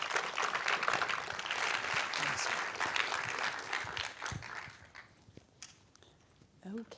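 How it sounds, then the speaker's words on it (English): Conference audience applauding a speaker at SquiggleConf 2025, dense clapping from a crowd that is full for the first few seconds, then thins into scattered claps and fades, with faint voices near the end. "let's give a round of applause to Oliver"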